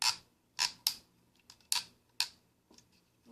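The hip joint of a Hasbro 2014 Transformers MP03 Masterpiece Grimlock figure creaks as it is moved, giving several short, sharp plastic squeaks in an irregular series, close and quiet, with no voices.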